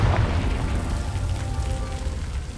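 A Confringo fire spell explodes in Hogwarts Legacy, giving a heavy, rumbling boom that trails into a crackling, hissing decay lasting a couple of seconds, with no voices.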